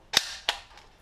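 The mechanism of an A&K Masada airsoft rifle snaps back when its ambidextrous release button is pressed, giving two sharp metallic clacks about a third of a second apart, close and crisp with no talk.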